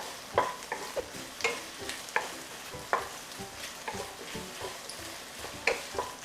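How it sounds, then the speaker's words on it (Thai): Chinese sausage stir-fries in a pan, a soft sizzle under regular scraping and stirring strokes from a utensil, repeating about every half second to second, fairly faint and with no talking. "ผัดสักพักปุ๊บมันจะเริ่มขึ้นสีละ"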